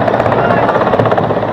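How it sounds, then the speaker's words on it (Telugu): Another helicopter landing in Ayodhya, with loud, continuous rotor chop close by and a person talking over the noise. "ఇంకో హెలికాప్టర్ ఉంది ల్యాండింగ్కి."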